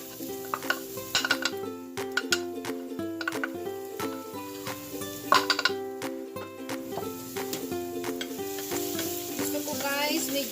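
Chopped garlic sizzles in a hot pot while being stirred with a utensil for a chicken gizzard stew, giving a continuous crackling hiss with scraping clinks, heard under steady background music.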